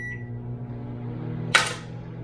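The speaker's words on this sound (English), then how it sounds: "I'm going to put the jam in the microwave for just a couple of seconds because it makes it easy to spread." A microwave oven warms jam for a few seconds to soften it for spreading, a steady low hum running near and then ending in a single sharp click.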